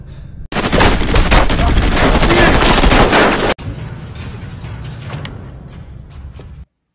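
Gangsters in a film spray a car with sustained automatic gunfire, loud and rapid for about three seconds, then a lower clattering continuation follows before the sound cuts to silence.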